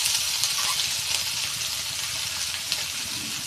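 Chopped ginger hitting hot oil in a pan while cooking veg manchurian, a dense, even sizzle crackling steadily throughout, close and moderately loud with no talking.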